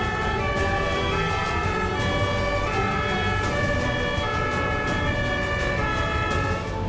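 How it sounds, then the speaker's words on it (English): Ambulance siren in Germany wailing steadily and loudly over continuous traffic noise, with a constant layered tone and no talk. "Here's how Germans react to ambulance sirens"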